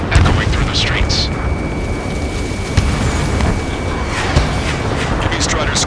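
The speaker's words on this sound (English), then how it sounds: "Gunfire and the roar of jets echoing through the streets." Dense, steady rumble of combat from Ace Combat 7, with gunfire and roaring jets echoing through city streets under martial law, a few sharper bursts rising above a continuous loud wash.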